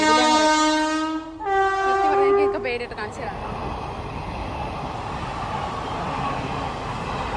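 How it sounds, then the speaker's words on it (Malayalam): A loud train horn blares in sustained tones, then the rumble and rush of an approaching train builds and continues, with a voice speaking briefly early on. "ട്രെയിൻ വരുന്നുണ്ട് കേട്ടോ."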